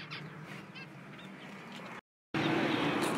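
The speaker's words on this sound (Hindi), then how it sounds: "ये देखें यहाँ पर ये पिजन्स हैं और इधर ये डायमंड है, वो ऊपर फिंचेस हैं।" Caged birds at a pet market, including pigeons and finches, give close honking and squawking calls over busy market noise, which cuts out briefly and then returns louder.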